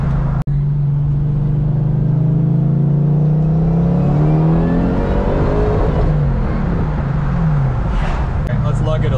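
A supercharged Lexus GS400 engine climbs steadily in pitch as it accelerates hard, with a rising whine layered over the exhaust, then eases and shifts near the end, heard from inside the car with wind noise.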